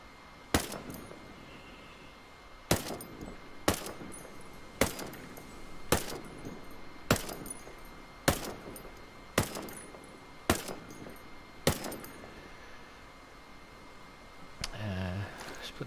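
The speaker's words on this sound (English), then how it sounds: "Right, so let's go back to the M4. We've got suppressor off, Let's do 10 rounds." Ten separate unsuppressed M4 rifle shots in Ghost Recon Breakpoint, loud sharp cracks spaced about a second apart at a steady pace, with a brief clatter of other game sound at the end.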